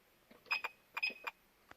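Two short electronic beeps from a Ferrari 360 alarm key fob in quick succession, fairly faint, each a brief chirp with a gap between, followed by a small click.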